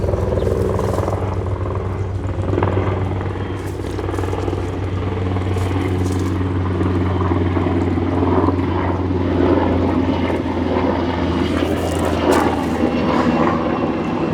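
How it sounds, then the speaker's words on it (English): A loud, steady engine drone with rhythmic rotor thumping from a black helicopter passing close overhead, lasting throughout. "A black helicopter just flew by."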